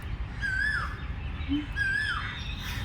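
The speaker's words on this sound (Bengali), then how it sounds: "কোকিল ডাকছে" An Asian koel calls twice outdoors among trees, each a clear rising-then-falling whistle spaced about a second apart, moderately distant over a low background rumble.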